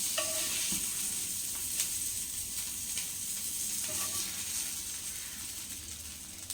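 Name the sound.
fish frying in oil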